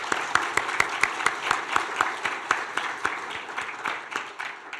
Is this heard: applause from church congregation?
yes